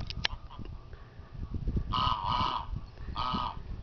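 Several loud, nasal goose honks in quick succession nearby, with faint background voices underneath.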